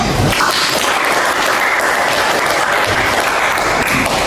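A classroom of students claps together during a religious education lesson, a dense, steady burst of applause filling the room throughout.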